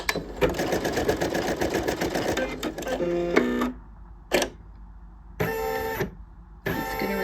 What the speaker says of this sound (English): I'm going to run it for a couple stitches, let it catch